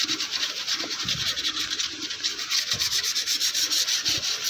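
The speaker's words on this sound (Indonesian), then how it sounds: "Setelah itu kita keringkan serta amplas tipis-tipis kembali." Sandpaper lightly rubbing across a painted machete blade, a close, steady rasping scrape in quick back-and-forth strokes throughout, with no talk.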